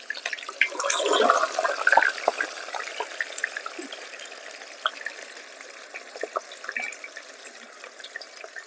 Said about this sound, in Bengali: তেলটা গরম হয়ে গেছে এখন আমি কাঁচা কলাগুলো ছেড়ে দেবো